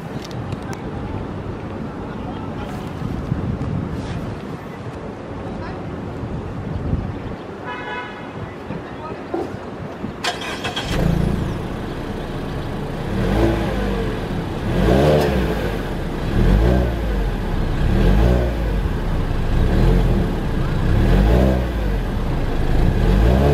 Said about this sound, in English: Start it up for y'all real quick so we can get this exhaust note.